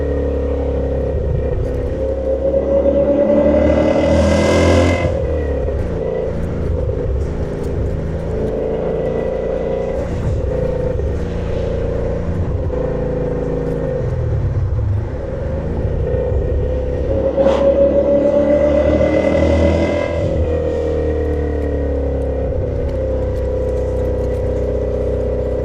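A 2000 BMW E39 M5 engine pulls hard while driving on an open road, its loud revs climbing in two rising surges with a steady mid-pitched drone between them.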